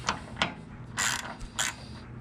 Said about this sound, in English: We're gonna go ahead and take this nut off.